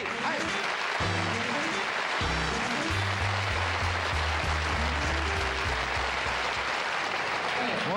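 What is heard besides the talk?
studio audience applauding Rodney Dangerfield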